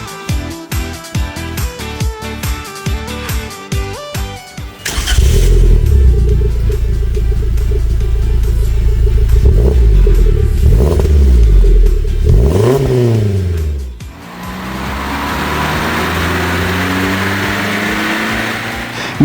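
A Suzuki Jimny 1.5 with a stainless steel catback exhaust and high-flow air filter revs repeatedly up close, with loud rising and falling sweeps, a steady idle rumble between them, then a sustained drive-by roar.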